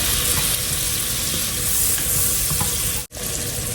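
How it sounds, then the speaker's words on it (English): Three tablespoons of butter melting in a large heavy-bottomed pot on the stove, a steady close hissing sizzle with faint stirring, broken by a split-second gap near the end, no voices. "melt 3 tablespoons of butter in a heavy bottomed"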